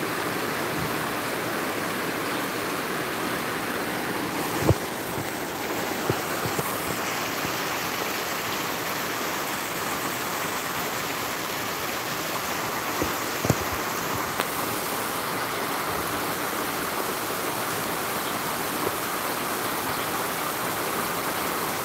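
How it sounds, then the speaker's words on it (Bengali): Rain falling outside a window, a steady even hiss of close, moderately loud downpour throughout, broken by a few faint knocks and a thin high tone partway through. "বৃষ্টির সাউন্ডটা আসলে খুবই ভালো লাগে"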